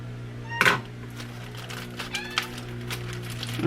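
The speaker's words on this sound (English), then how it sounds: "you'll hear Jasmine meowing" A short cat meow rises out of a quiet room hum, followed by faint, scattered chirpy sounds and light clicks.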